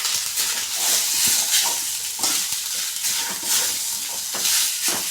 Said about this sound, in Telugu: రైస్ వేసుకొని సాల్ట్ కొంచెం వేసుకున్నాము ఇప్పుడు కలుపుకున్నామండి